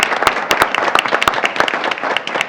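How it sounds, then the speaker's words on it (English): A room of people at a school board meeting claps in a dense, steady burst of applause, sharp individual claps standing out from the patter. "Round of applause for that"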